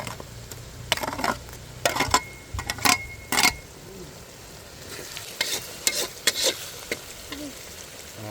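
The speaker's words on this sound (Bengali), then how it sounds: "আদা রসুন কষানো হয়ে গেছে" Ginger and garlic paste with green chilies, cardamom and salt fries in a pan during a family village picnic, a soft steady sizzle broken by loud scraping and clattering stirs of a spoon against the pan.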